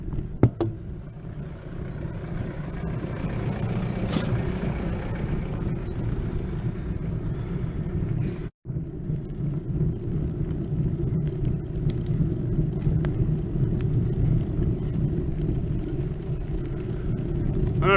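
A car passes on a mountain road in the Gredos range, a steady low rumble under heavy wind buffeting that lasts throughout and briefly cuts out midway.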